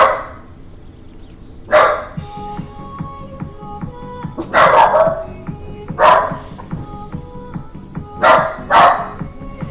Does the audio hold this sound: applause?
no